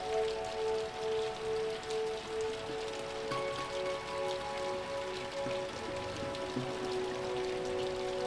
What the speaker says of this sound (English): Or when I was caught in a rainstorm at the Imperial Palace in Kyoto.